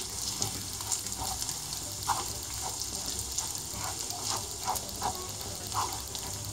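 Minced meat sizzling steadily in a pan as a spoon stirs it, with a constant frying hiss and small intermittent scraping clicks, close and fairly quiet, no talking.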